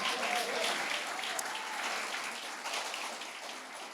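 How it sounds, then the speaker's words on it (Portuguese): A church congregation applauds loudly, a dense, even rain-like patter of many clapping hands heard from some distance, sustained for several seconds and gently tapering. "Aplauda a palavra do Senhor o mais alto que você puder."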